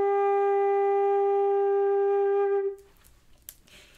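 A single sustained G on a flute, held steadily and clearly for about two and a half seconds before it stops, leaving only faint room noise.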